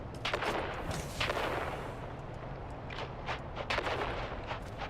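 Repeated sharp blasts and crackling gunfire-like bursts from grenades going off in the video game Dune: Awakening, clustered in several loud volleys over a steady rumbling background.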